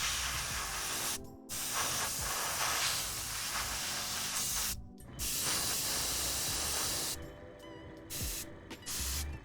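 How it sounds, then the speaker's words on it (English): An airbrush sprays paint onto a tabletop gaming miniature in long steady hissing bursts, broken by a few brief pauses, close and fairly loud with no talking. "I don't understand this airbrush."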